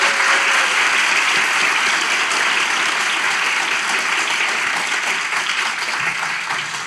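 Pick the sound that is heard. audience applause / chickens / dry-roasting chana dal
audience applause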